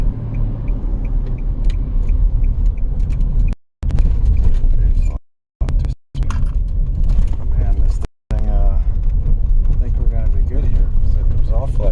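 A 2011 Nissan Rogue that is running rough rumbles as it accelerates on the road, a steady low engine drone under continuous talking, with a few brief dropouts.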